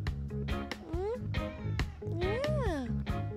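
A cat meows several times close by, rising and falling wails in a short run, over a low household hum.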